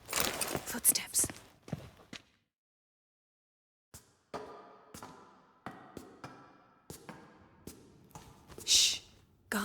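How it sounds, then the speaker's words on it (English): Footsteps from The Witcher 3 video game: a series of distinct soft steps and taps spread across the stretch, with a brief silent gap early on and a brighter rustle near the end. "Footsteps."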